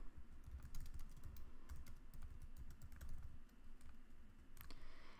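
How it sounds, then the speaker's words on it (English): Rapid, continuous typing on a computer keyboard, close up, with quick irregular key clicks and no talking. "You can begin typing."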